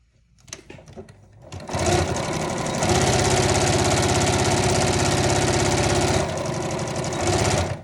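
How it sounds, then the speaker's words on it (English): A sewing machine stitches down the corners of a boxy bag. After a few soft handling clicks it starts up loud and close, then runs in a fast, steady whirring chatter for several seconds, with one short dip in speed. "You just take, push it out, make sure it's even, and then you sew down"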